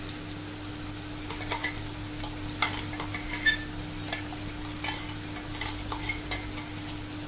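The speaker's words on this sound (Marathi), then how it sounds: "हे बघा, आलं लसूणाची पेस्ट मस्तपैकी परतून घ्यायचं।" Ginger-garlic paste frying in a pan for dal fry, a low continuous sizzle broken by repeated spatula scrapes and stirring clicks, close and quiet, with a steady hum underneath and no voices.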